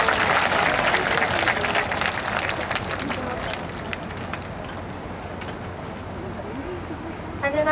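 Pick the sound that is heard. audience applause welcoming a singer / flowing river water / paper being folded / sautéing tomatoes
audience applause welcoming a singer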